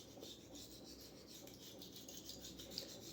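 A straight razor stroked back and forth across a 3k whetstone gives a steady, close, gritty rasping hiss that repeats in smooth passes, fairly quiet and alone.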